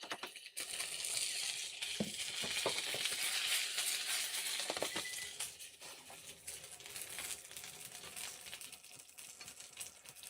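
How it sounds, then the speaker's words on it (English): Shengjian bao pan-frying, a steady crackling sizzle with scattered pops and spits running throughout, loud and close, with no talking. "I hear a little bit more sizzling."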